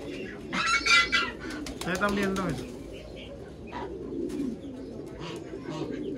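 Low, throaty cooing from several pigeons at a breeding farm repeats beneath close conversation, with a few brighter chirps and calls mixed in.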